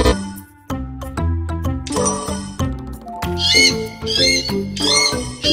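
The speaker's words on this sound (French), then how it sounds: "Donc là, on entend un oiseau." Bird call played as part of a sound-recognition rehabilitation exercise: bright, warbling chirps repeat through the second half, layered over steady tonal notes and low thumps from other sounds in the sequence.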